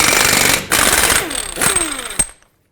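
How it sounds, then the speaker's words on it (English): A 36mm socket on an impact tool spins off the front axle nut of a 2003-2007 Nissan Murano, giving loud, close rattling hammering bursts that stop abruptly and then fall silent. "Now with the 36mm socket, let's remove the axle nut."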